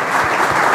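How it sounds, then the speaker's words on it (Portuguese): Audience at a São Paulo lecture on political reform applauds a guest, a steady dense wash of clapping heard close and alone for under a second. "Uma salva de palmas para ele."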